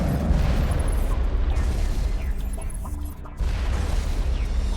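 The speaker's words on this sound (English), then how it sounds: "I'll just block all these rockets with my face" Heavy booming rocket explosions in the Mass Effect video game, loud and close, rolling together with a brief lull before another blast hits.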